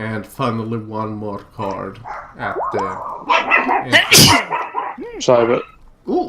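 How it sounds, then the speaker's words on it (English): A pet dog barks and whimpers indoors during a tabletop board game session, short sharp yips and rising whines mixed in under several people talking. "sorry about my dog"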